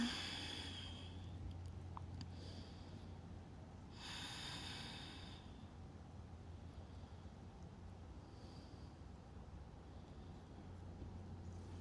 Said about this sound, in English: Breathe in deeply. Exhale slowly.